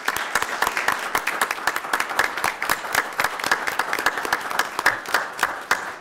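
Audience at a board of directors meeting giving students a round of applause, with sharp individual claps close by standing out from a steady crowd patter that continues throughout.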